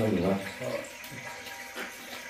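Water runs from a tap in a brief splashing stream, with a faint voice mixed in at the start.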